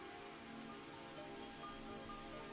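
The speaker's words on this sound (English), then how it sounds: "All of a sudden, big raindrops hit the roof of my car" Heavy raindrops drumming on a car roof in the visual novel Higurashi: When They Cry, a soft, steady hiss of rain, faint and unbroken with no voices.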